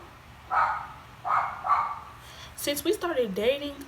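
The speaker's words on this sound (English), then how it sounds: "Why is my dog being annoying?" Two muffled dog barks sound a moment apart, followed by a person talking with a rising, whiny tone.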